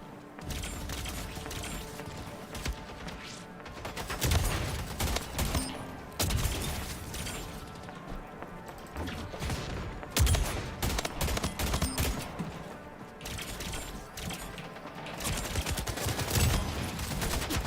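Rapid video-game gunfire crackles in dense bursts throughout, mixed with mechanical clicks and small impacts, moderately loud and close, without talk.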